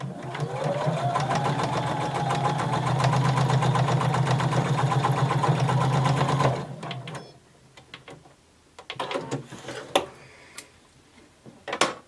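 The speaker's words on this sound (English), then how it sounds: "Starting at the top, we're going to sew using a 5/8 of an inch seam allowance" A sewing machine stitches a seam in denim for a McCall 6361 garment, running a fast, even mechanical whir up close for about six seconds, then cutting out to scattered clicks and fabric handling.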